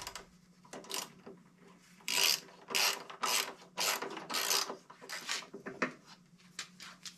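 Bolts on a miter saw being snugged up with a ratchet, giving a series of close, rhythmic clicking bursts of the pawl with brief pauses between strokes.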